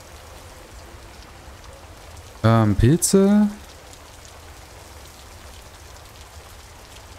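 Steady rain falls on a surface in the video game The Stillness of the Wind, a soft continuous patter throughout, briefly overlaid by a short spoken word.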